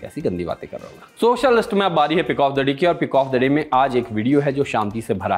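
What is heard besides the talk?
No everyday noise stands out behind the speech.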